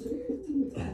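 Breeder pigeons in large cages giving soft, low cooing calls in a short, close, continuous rolling phrase.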